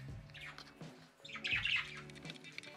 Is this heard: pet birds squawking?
yes